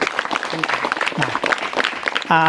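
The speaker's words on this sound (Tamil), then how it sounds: "எல்லோரும் ஒரு பெரிய கைத்தட்டலோடு நன்றி சொல்லுங்கள்" Audience applause thanking a forest range officer at a Topslip forest event, a short burst of dense clapping with voices mixed in, ending in a louder swell.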